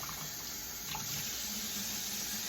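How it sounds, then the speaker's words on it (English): Rice being rinsed in cold water beneath a kitchen sink tap, a steady broadband splashing and running-water hiss that carries on unbroken and close at hand. "Now we're going to take this rice and wash it in cold water under the sink."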